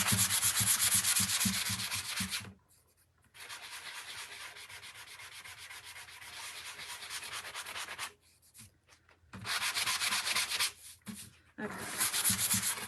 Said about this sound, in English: sand down my oopsies.